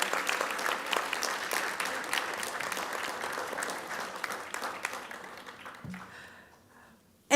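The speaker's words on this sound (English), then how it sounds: "And one more round of applause for Janaki and all our nominees." A crowd at an international convocation applauds award nominees, dense clapping that starts loud and gradually thins and fades over several seconds before a brief sharp sound at the end.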